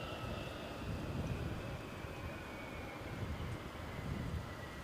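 An Aer Lingus airliner taking off from Edinburgh airport, a distant, steady jet roar mixed with wind buffeting the microphone.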